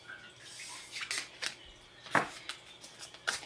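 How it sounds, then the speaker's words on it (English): Tarot cards shuffled by hand, a series of soft, crisp riffles and flicks coming in irregular bursts, close and quiet against a hushed room with no talk. "I'm going to shuffle it."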